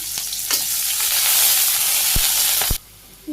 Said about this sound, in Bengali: তেলে সামান্য একটু জিরে দিয়ে দিলাম পেঁয়াজ কুচি দিয়ে দিলাম আর দুটো মরিচ